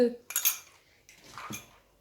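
A utensil clinks and scrapes against a bowl while stirring a hot gelatin mixture for a red fruit yule log, a few close metallic taps and scrapes, short and fairly quiet.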